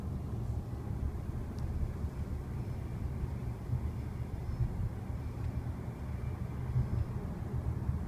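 Steady low rumble of road noise inside the quiet cabin of a 2014 Tesla Model S electric car, muffled and even throughout with no voices.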